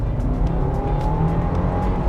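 A car engine pulls hard at full throttle, a loud, steady roar climbing slowly in pitch, heard close from inside the vehicle.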